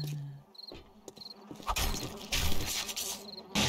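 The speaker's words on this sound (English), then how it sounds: "the crickets are making their noises." Dense insect buzzing and chirring in the video game 7 Days to Die, crickets trilling steadily with flies droning close by, punctuated by a few sharper clicks and bursts.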